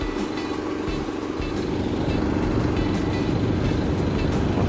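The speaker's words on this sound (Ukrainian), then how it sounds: "Ось так воно накачується і я зараз їду." A truck tire is inflated with air at a roadside repair, a steady loud hiss of compressed air with a low engine rumble and faint intermittent clicks underneath.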